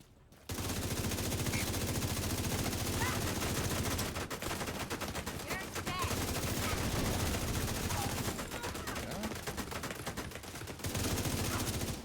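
Turret gunfire in the video game The Division 2, loud rapid automatic bursts that roll on almost without a break, with short lulls between long streams of shots.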